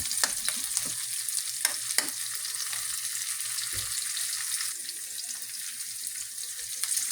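Chili peppers sautéing for Bicolano kandingga give a steady broadband sizzle, with several sharp stirring clinks and scrapes near the start and a few more scattered later, with no voices.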